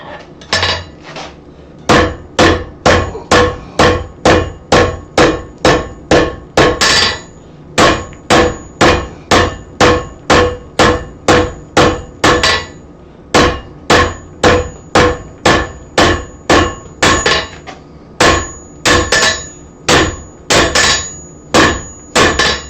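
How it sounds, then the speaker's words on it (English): Hammer striking a holdfast, delivering a long series of sharp, loud, evenly spaced blows with brief pauses between runs, each hit ringing with a metallic clang in a quiet room. "And no, you don't need this fancy hammer."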